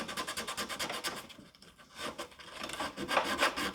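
Coarse 80 grit sandpaper rubs by hand along a scarf-joint guitar neck, a continuous rasping scrape in quick back-and-forth strokes, close and fairly quiet.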